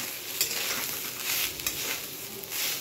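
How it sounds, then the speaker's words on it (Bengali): A coconut mixture with a pinch of salt, cooked for narkel naru, is stirred in a pan. A continuous close sizzle runs under soft repeated scraping and shuffling strokes of the spoon. "এটা একটু নাড়ব"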